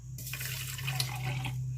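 Warm water splashes and trickles into a drink mix of apple juice and salt, a short, close pour that starts abruptly, runs for over a second over a low steady hum, then stops.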